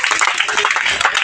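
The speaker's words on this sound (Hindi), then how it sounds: "जोरदार ताली बजाओ भाई।" A crowd at a political rally in Vikaspuri, Delhi, claps in a dense, steady wash of hand claps that stays fairly loud and close throughout, with no one speaking over it.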